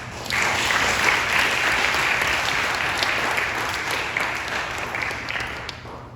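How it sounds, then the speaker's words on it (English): An audience at an Eagle Court of Honor ceremony gives sustained applause, a steady, moderately loud wash of clapping from a roomful of people that fades slightly toward the end. "you all deserve a round of applause too."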